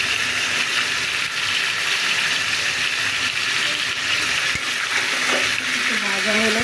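Spices frying in a pan for chicken and pea pulao, a loud continuous watery sizzle close up, with a voice faintly underneath toward the end.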